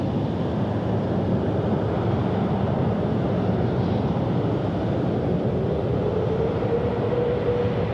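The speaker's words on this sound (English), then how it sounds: "Cathay 138, runway 16 right, clear for takeoff" Cathay Pacific airliner taking off at night from Sydney Airport runway 16 right, a steady broad jet roar held at constant loudness, with a faint rising whine near the end and no talk.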